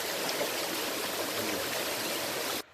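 Mountain stream water flowing at the East Fork of the San Gabriel River, a loud steady rushing and gurgling close by that cuts off abruptly at the end.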